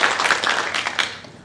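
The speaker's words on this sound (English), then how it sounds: "so round of applause for everybody." Applause for presenters at a community committee meeting on facility names, a short burst of scattered hand clapping from a small group that fades within about a second and a half.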